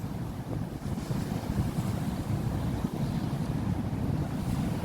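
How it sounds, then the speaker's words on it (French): Rough sea surf at Saline-les-Bains beach, Réunion, roars continuously with heavy wind buffeting the microphone, a dense rumbling wash with no voices. "c'est pour te montrer la force des vagues."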